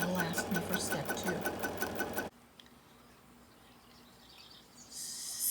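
A sewing machine stitches a die line around a mug rug with quick, even ticking for about two seconds, then stops abruptly, leaving quiet room tone and a brief soft sound near the end.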